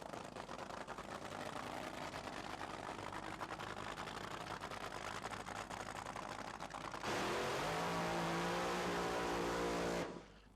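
A 1986 Santa Pod drag racing car with a 484 cubic inch Keith Black engine roars loudly and steadily, then surges into a harsher rising rev before cutting off abruptly near the end.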